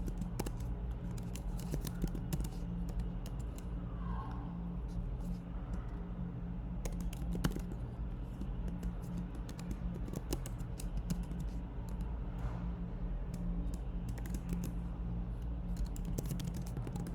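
Steady computer keyboard typing of code, a dense run of quick light clicks continuing throughout at moderate level over a faint background hum.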